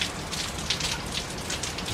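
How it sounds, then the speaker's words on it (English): Hurricane Francine's rain in Algiers, Louisiana, falls in a constant dense patter on surfaces, a steady close hiss with slight gusts and no talking. "The rain never completely stops."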